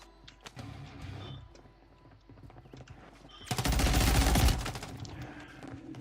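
Bursts of rapid gunfire in a video game, a dense loud volley in the middle after quieter scattered shots and clatter, with no talk over it.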